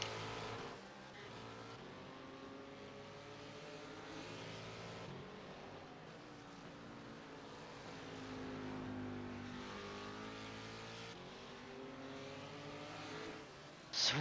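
Race cars in a racing video game at the Glen, their engines a steady, droning roar that rises and falls in pitch as they run laps, continuous and without speech.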